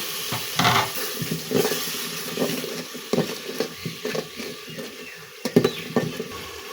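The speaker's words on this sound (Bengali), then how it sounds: "সামান্য একটু পানি দিয়ে মশলাটা কষিয়ে নেব" Ground chili, coriander and cumin masala frying in a pan with a little water, giving soft sizzling and wet patter as it is stirred, with repeated scraping strokes at an irregular rhythm, close up and with no talking.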